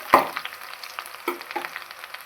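Garlic and two green chillies fry in a pan as a spoon stirs them, with a sharp scrape at the start, then a soft sizzle and a few clinks, close and without talk.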